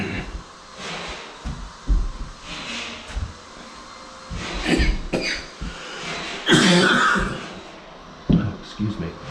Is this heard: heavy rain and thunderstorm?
no